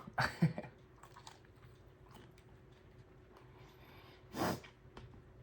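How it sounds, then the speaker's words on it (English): Close, crunchy chewing of an egg roll topped with hot sauce, with two louder bites near the start and another near the end and quiet mouth sounds between them. "let's get one of these egg rolls and try a bite on the egg roll here"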